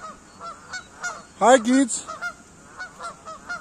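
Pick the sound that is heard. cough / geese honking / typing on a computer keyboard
geese honking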